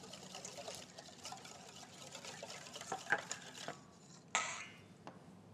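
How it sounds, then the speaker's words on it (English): A whisk works through a chicken satay marinade of ginger and garlic in a bowl, making soft, quiet wet clinks and scrapes, with one sharper knock against the bowl near the end. "I'm just going to take a whisk, and we're going to mix this marinade up"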